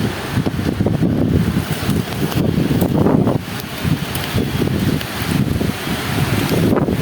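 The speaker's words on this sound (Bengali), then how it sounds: "ভাই কি হাওয়া এই দিকটাতে।" Strong wind blows in gusts, buffeting the microphone with a loud, continuous low rumble that rises and falls, with no talking.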